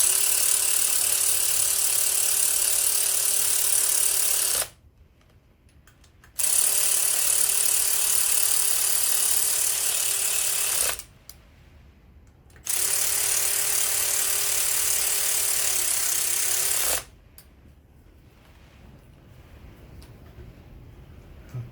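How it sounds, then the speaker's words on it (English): A power ratchet tightens the crankcase bolts of a Suzuki GT750 engine during a rebuild, running in three long, loud, steady whirring bursts of several seconds each, separated by short quiet gaps. "power ratchet like this, just make sure your arm goes as it tightens up, so you don't strip them"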